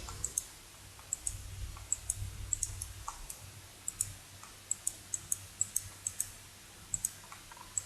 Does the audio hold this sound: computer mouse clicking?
yes